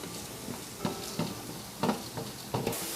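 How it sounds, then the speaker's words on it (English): Rice frying with meat in a pot on the stove, a soft continuous sizzle broken by several sharp scraping and clinking stirs, close up and with no talking. "I like to fry the rice with the meat and everything"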